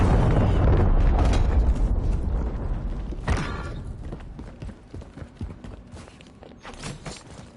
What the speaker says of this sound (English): Friendly cruise missile